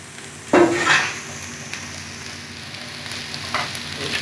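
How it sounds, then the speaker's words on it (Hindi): Cabbage and mixed vegetables land in a hot pan with a sudden loud sizzle that settles into steady frying hiss, with a couple of light stirring scrapes later, close up and with no talk. "इसको भी हम अच्छी फ्राई कर लेंगे।"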